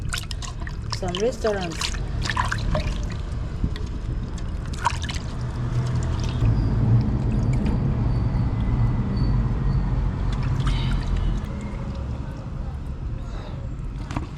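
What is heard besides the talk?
water running while washing fish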